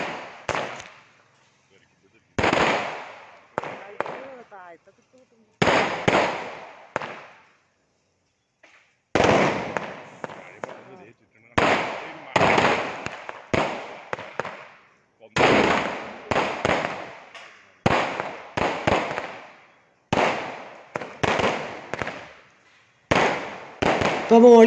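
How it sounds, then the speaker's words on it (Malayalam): Firecrackers burst in rapid clustered volleys at a church feast celebration (Irinjalakuda perunnal), loud sharp cracks repeating in bunches with brief gaps, set off close by. "ഞങ്ങൾ വേഗം പടക്കം പൊട്ടിച്ച് തീർക്കാണ്."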